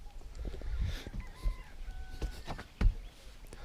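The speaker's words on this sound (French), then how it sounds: "On entend les coqs." Faint, distant roosters crow and chickens cluck over an outdoor background in a small village along the Gambia River, with a few soft bumps and thuds nearby.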